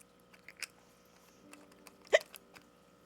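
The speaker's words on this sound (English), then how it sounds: "I have the hiccups." Someone hiccups a few times in a quiet room, with small sharp hiccups early and one louder, clearer hiccup near the end, alone with no talk.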